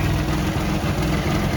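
A Geo Metro XFi engine with a small nitrous shot, running on a dyno, gives a steady, loud, low engine drone with a slight rhythmic pulse and no rise in revs. No voices are heard over it.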